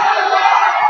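A high school wrestling match crowd roars and cheers in a gym, a loud dense wall of shouting voices throughout the short clip.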